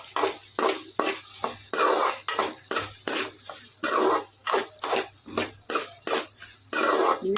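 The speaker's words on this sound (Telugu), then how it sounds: "మిగతా అన్నీ కూడా కలిపేసి వేపేసుకోవాలండి." Spices and dried chillies dry-roast in a pan over a medium flame, stirred in a quick, regular run of about fifteen scraping, rattling strokes. The strokes are close and fairly loud, with no voices.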